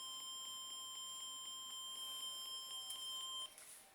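A homemade burglar alarm prototype triggered by covering its light sensor gives a steady, rapid series of high electronic beeps, evenly spaced and clear, cutting off near the end.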